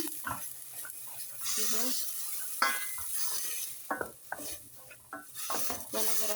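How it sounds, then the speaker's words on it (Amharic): Onion cooking in a thin pot while being stirred, soft sizzling under repeated spoon scrapes and clinks against the pot, with someone speaking briefly between strokes. "ይኸው ሽንኩርት በዚህ መልኩ እየበሰለ ነው"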